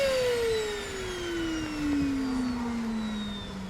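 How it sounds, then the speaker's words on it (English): A household vacuum cleaner about five years old, running poorly, gives a close, steady whir whose pitch slides continuously downward as it loses power, with no talking. "my vacuum did not seem to be working as effectively as it has for the last 5 years"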